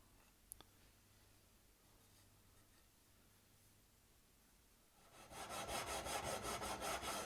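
Wood on a guitar build is sanded with quick, rhythmic rubbing strokes that start after a quiet stretch and grow steady and fairly close.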